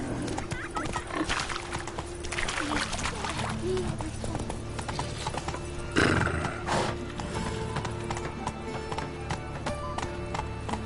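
Roach the horse neighing and whinnying in a video game, with clip-clopping hooves and game effects underneath, close and fairly loud.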